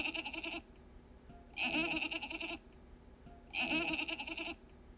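A woman imitates a goat bleating with three evenly spaced, nasal, wavering baa calls, each about a second long, separated by quiet gaps.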